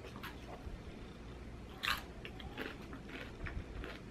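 Close, crisp bites and crunchy chewing of Hot Cheeto nachos topped with sour cream, with a loud crunch near the middle and softer mouth sounds around it, no talking.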